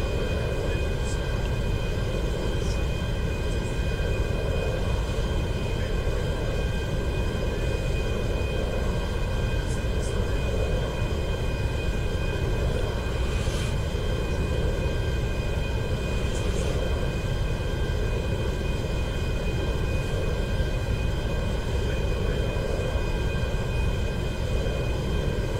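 A large plane's engine drones steadily on landing approach in GTA 5 Online, a continuous broad rumble with a faint tonal whine that holds constant throughout without letting up.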